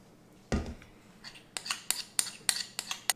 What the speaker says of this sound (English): we're gonna dump our mixture on top of the popcorn